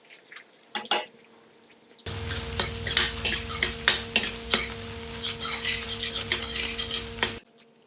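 Grated coconut tipped into onions frying in a pan for a wedding-style okra tamarind curry, heard as a loud, steady, close sizzle with stirring scrapes that starts abruptly and runs without talk.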